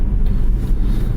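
A 2015 Tesla Model S 70D drives along with a low, steady road and wind rumble and a faint background hiss, heard briefly and alone.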